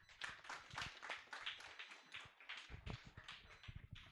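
Audience applause after a LISA Program student presentation, a dense, steady patter of many hands clapping at moderate loudness for several seconds with no one speaking.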